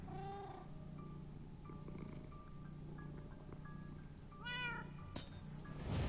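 Pet cat Winslow meows in a string of rising and falling calls, close and fairly loud, over a steady low hum of game audio, with a sharp click near the end.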